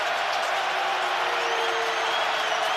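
A full stadium crowd at an NFL game between the Chiefs and Ravens roars steadily, a dense, continuous wash of cheering and noise heard at a distance without clear breaks.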